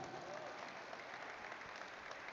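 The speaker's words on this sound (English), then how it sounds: "So a big round of applause for Team PW," At a stock exchange listing ceremony, a crowd gives Team PW a round of applause, a steady, dense patter of clapping heard from a distance and fairly faint throughout, with voices mixed in.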